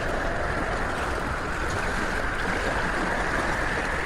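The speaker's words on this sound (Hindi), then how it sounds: "ये बड़ी लहरें और हवाएं, नहीं कर पा रहा हूँ" Roaring storm wind and heavy waves at sea during a violent pre-monsoon storm, a dense, constant rushing noise with no break, loud and close, no voices.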